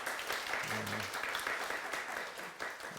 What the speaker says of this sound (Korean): 저희 박수 해드리도록 하겠습니다